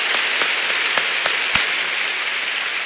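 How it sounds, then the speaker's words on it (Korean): A church congregation claps together in thanks during a sermon, a steady, even wash of applause throughout with a few sharper individual claps standing out. "주님께 한번 박수로 감사드리십시다."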